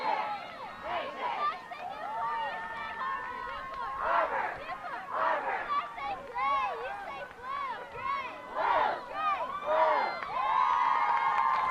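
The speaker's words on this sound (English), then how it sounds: "Crowd getting more into it. Some cheers from the student section." A student section cheers at a field hockey game, with crowd shouts and cheering rising and falling in bursts under steady nearby talking.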